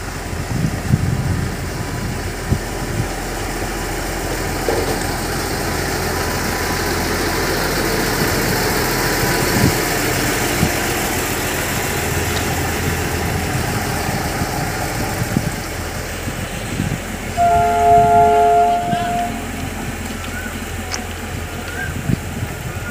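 A railway track maintenance machine moving along the line toward Puranpur station, a continuous rumbling engine drone with vibration heard from nearby outdoors, a brief tonal squeal near the end.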